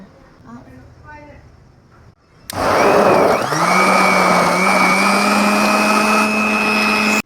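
A blender whirs loudly as it churns cucumber, lemon and grapes into mixed juice, starting abruptly after a short stretch of speech and holding a steady close motor drone until it cuts off.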